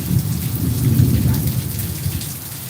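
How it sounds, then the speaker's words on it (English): Steady heavy rain pours down with a constant dense hiss and low rumble, loud and close, continuing without a break. "That rain helps."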